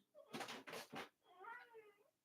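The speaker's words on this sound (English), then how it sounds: "that's my kitty talking" A pet cat meows, faint and slightly distant: three quick chirpy calls followed by a longer drawn-out meow.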